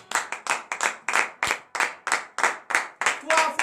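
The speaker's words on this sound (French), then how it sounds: "Donnez de vive acclamation à l'Éternel." Congregation at a morning prayer service clapping in a steady, rhythmic beat, about three claps per second, sustained throughout at moderate loudness, with voices faintly mixed in toward the end.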